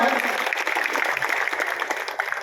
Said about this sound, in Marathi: यांच्यासाठी आपण टाळ्या वाजवायच्या आहे